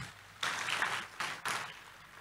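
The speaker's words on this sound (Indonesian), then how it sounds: "Tepuk tangan buat Tuhan Yesus." Faint applause from a church congregation during a Sunday service rises in two short swells, soft and somewhat distant.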